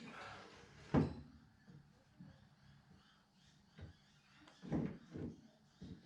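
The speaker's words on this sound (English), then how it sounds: "the next step is going to be to feed in this torsion bar and knock it through at the same time" Faint, sparse metallic knocks and clunks ring out in a quiet garage as a torsion bar is fed and tapped through the tube beam of a VW Baja build, with one sharper hit early and a cluster of taps near the end.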